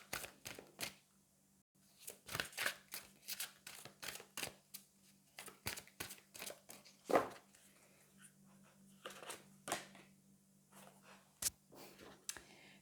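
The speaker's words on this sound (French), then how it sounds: "on va prendre une carte des anges de l'amour" Angel love oracle cards being shuffled and drawn by hand: a long run of irregular crisp card snaps and flicks, close and fairly quiet, with short pauses between bursts.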